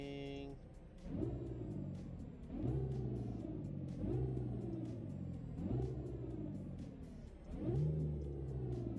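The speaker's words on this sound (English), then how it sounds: "This motor doesn't sound bad." Car engine in the BeamNG driving game, a loud steady motor drone that swells in repeated rev surges as it accelerates through the gears, with no talk over it.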